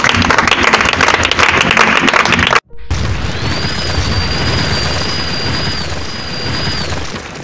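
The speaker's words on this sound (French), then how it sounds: "On acclame les seigneurs." An audience cheering and clapping to acclaim the lords at a church gathering: loud, dense applause that cuts off abruptly, then resumes as a sustained crowd roar with a whistle-like tone over it.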